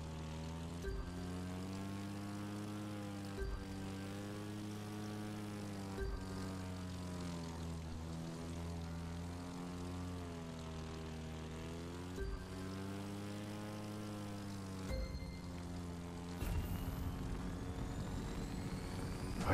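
A propeller airplane engine in the racing video game The Crew 2 drones steadily, flying low over water, with a constant harmonic hum that wavers slightly in pitch and brief clicks throughout.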